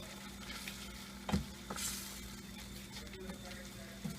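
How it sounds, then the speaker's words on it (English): Masala and tomato frying in oil for a fish curry give a soft, steady sizzle with a few faint knocks of stirring, quiet and without talk. "I'm going to fry this for 2 minutes."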